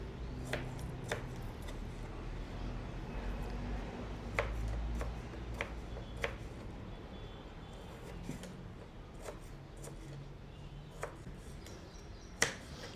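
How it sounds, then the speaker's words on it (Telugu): A knife thinly slices vegetables on a board in soft, quiet taps that come at an uneven pace, some crisper than others, against a faint room hum. "సో నేనైతే ఇలా సన్నగా ముక్కలు తరుగుతూ ఉన్నాను చూడండి"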